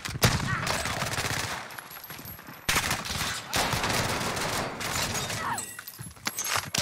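Rapid gunfire bursts in Call of Duty Warzone (Modern Warfare), with a Krig rifle and Axial 3x scope, crackling loud and near in dense volleys with short gaps, a brief voice underneath.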